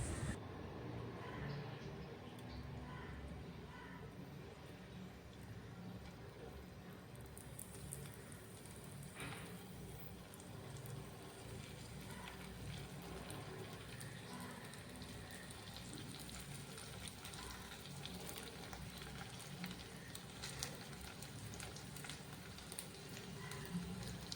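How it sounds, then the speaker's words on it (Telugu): Vegetable cutlets shallow frying in oil, a faint, continuous crackling sizzle that holds steady throughout, with quiet speech now and then in the background. "సో ఈ విధంగా ఆయిల్లో షాలో ఫ్రై లాగా చేసేసుకోండి"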